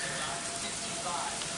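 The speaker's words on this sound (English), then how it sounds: "it's beginning to rain here in Cayman City" Steady rain falls during a thunderstorm in Illinois, a continuous broadband hiss and patter, faint and unbroken, with no distinct thunderclaps.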